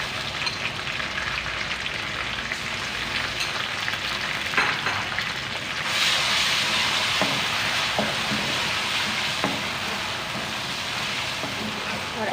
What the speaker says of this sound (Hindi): अब हम डालेंगे लहसुन अदरक का पेस्ट 1 टेबलस्पून भरा हुआ